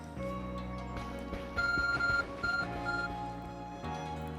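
In the video game Pokémon Legends: Arceus, the Arc Phone gives a few short electronic beeps over a steady, sustained musical background tone, fairly quiet and without talk.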